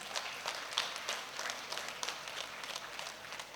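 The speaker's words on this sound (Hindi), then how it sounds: "और हमारे इस ध्यान ओडिशा के लिए भी एक जोरदार तालियां।" An audience at a meditation and spirituality awareness event in Odisha gives a steady round of applause, dense clapping held at a moderate, somewhat distant level throughout.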